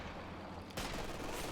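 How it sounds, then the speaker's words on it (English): Artillery barrage in the video game Company of Heroes 2: dense, continuous rumbling explosions that swell louder partway through, heard alone without talk. "There's the real barrage as well."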